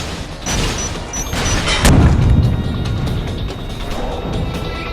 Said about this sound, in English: A massive explosion might work.